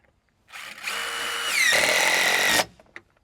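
A power drill drives Quickstep screws to fasten wooden stairs to a deck's rim board, giving one loud, close burst of about two seconds whose pitch rises as the motor revs, then cuts off sharply.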